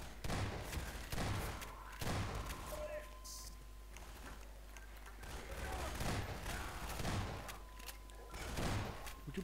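Half-Life 2 gunfire thumps in repeated bursts at a moderate distance, mixed with game noise and a continuous low hum, while a person talks over it.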